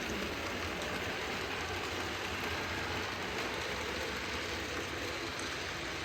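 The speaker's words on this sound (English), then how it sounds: "set up a shuttle so that something like this can trundle back and forth" A model railway train trundles along a shuttle track on a small shelf layout, making a steady, continuous rolling rumble with no breaks, close and even in level.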